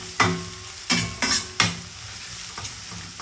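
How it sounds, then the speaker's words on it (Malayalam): Onions fry in hot oil for a cooker biryani with a continuous sizzle, while a utensil scrapes through them in four or five distinct stirring strokes, near and fairly loud with no talking. "ഒനിയൻ ഇട്ട് കൊടുത്ത് വറുത്തെടുക്കാം കേട്ടോ"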